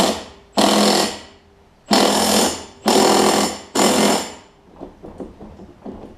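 Impact wrench tightening the flywheel bolt on a Craftsman self-propelled push mower, with four loud sustained rattling bursts of about a second each, close by, then fainter clanks.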